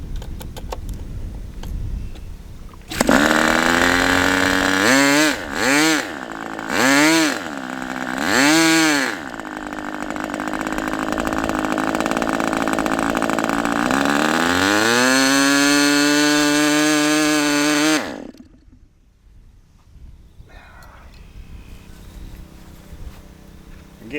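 A Raduga 10RU engine on its first run, a loud, close buzzing drone that blips several times in quick rising-falling surges, then holds a long steady run before cutting off abruptly into near silence.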